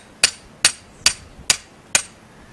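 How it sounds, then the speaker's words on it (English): Five sharp, evenly spaced strikes drive a notched wooden stake into the ground over a snare wire, each blow a crisp close knock about half a second apart, with no talk. "I can put that right on top of that wire and drive it into the ground."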